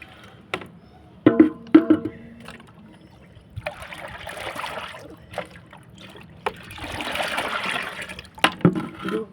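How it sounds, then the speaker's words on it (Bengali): Mustard cake water fertilizer is poured onto rooftop garden vegetable plants, giving intermittent splashing and trickling with a few sharp knocks and two longer gushing pours. "তার সাথে দিয়ে দেবো এই সর্ষের খোলের জলটা"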